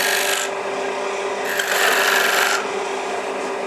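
A tool cuts decorative rings into a wooden inlay platter, a steady broadband rasping scrape running the whole time, rising louder and brighter in the middle stretch, close and alone with no talking.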